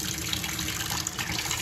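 Tap water runs in a steady, loud gush for preparing strawberries, with no voices.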